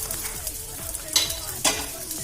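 Onions sizzling in hot oil in a frying pan while goat brain fry is prepared, with steady crackle and two louder bursts as the pieces are stirred, close up and alone.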